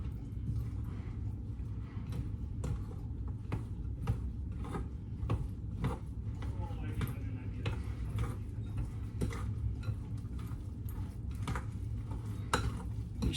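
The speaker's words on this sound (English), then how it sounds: "So we got 1 heaping tablespoon of marmalade in. And we're going to mix all that up," A spoon scrapes and knocks steadily around a bowl while marmalade and treacle are worked into a thick duff pudding mixture, with a regular clinking rhythm, close and fairly quiet.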